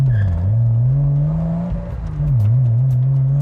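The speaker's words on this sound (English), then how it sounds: "The engine along with the exhaust delivers a brilliant symphony." A 1997 Porsche Boxster with a 2.5 petrol engine and five-speed manual drones steadily from inside the car, its engine and exhaust note rising and dipping with throttle changes, loud and close without talk.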